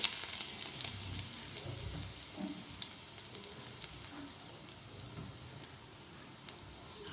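Garlic fries in hot oil for idli upma, a steady crackling sizzle with small pops that is loudest at the start and then settles, with no voices.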